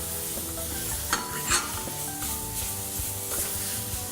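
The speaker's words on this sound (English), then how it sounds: "I get to mix it up nicely now" Chopped tomatoes and tomato paste being stirred into a thickening stew in a hot pan, with a steady loud sizzle and scraping stir strokes, a few sharper clanks of the utensil against the pan, no voices.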